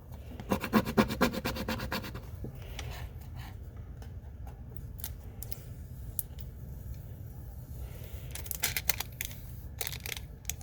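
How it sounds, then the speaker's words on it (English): Dollar Tree vinyl transfer tape being scraped onto a notebook makes repeated close, dry rasping scratches, dense bursts at the start and end with quieter rubbing between, no voices. "I don't know how much more scraping I can do to get this to stick"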